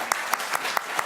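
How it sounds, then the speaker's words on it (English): Conference audience at a foster care summit applauding volunteers, with a few distinct rhythmic claps standing out over a soft background of clapping, brief. "Let's give them applause."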